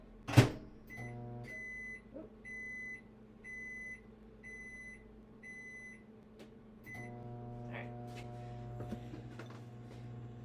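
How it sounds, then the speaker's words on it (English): A steady low hum with a faint whir runs throughout, with a series of regular electronic beeps in the middle and a sharp clatter at the start. "I'm going to put it in the microwave"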